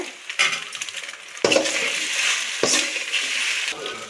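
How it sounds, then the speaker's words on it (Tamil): Chicken pasta with coriander powder, chicken masala and chilli is stirred in a pan: a utensil scrapes and clinks against the metal, with three sharper strokes among softer continuous shuffling and a faint sizzle, no talking. "இப்போ நல்லா மிக்ஸ் பண்ணிக்கோங்க"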